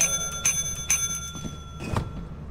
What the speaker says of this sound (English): You want me to ring the bell?